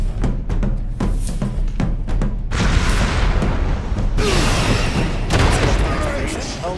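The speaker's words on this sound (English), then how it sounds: "grenades in this game don't look like much, and they don't sound like much" Grenade explosions in the Warhammer 40,000: Space Marine video game, two broad, rumbling blasts a couple of seconds apart following scattered gunfire and mechanical clatter, with someone talking over the action.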